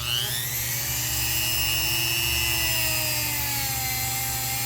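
A Dremel rotary tool spinning a small wire wheel scrubs epoxy off a hand-forged bushcraft knife, giving a steady, loud high-pitched whine with a constant motor drone underneath, close and uninterrupted throughout.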